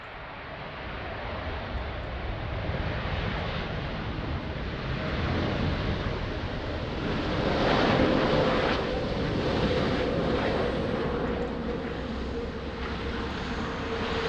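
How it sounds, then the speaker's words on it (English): Fixed-wing airplane landing at Lisbon Airport in rain and wind, a distant broad engine roar that swells and fades over several seconds beneath wind noise on the microphone. "nice landing"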